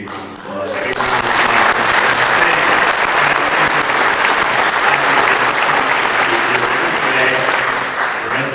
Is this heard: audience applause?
yes